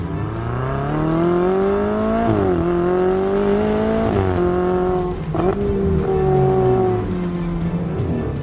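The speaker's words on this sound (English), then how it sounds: "So driving the 488 on the Stelvio is an absolute privilege." A Ferrari 488 road car driven hard up the Stelvio Pass in Italy, its engine revving loudly and closely through repeated gear changes, pitch climbing and dropping with brief pauses between shifts.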